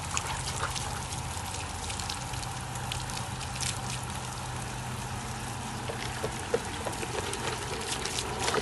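A 1/2 HP sump pump drains a bucket of water, giving a steady close hum under a continuous rushing, gurgling flow with occasional small splashes.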